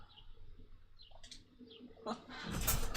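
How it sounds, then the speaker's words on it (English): Birds inside a house make soft, distant cooing and chirping calls, faint and intermittent, with a louder burst of noise at the end. "Actually, I think I do have a bird problem here in the house."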